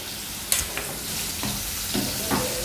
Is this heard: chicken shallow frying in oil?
yes